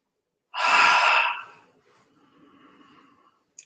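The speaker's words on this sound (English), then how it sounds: "diaphragmatic breathing you want to do" One deep diaphragmatic breath during a breathing exercise: a strong, forceful inhale lasting about a second, then a long, softer, airy exhale trailing off.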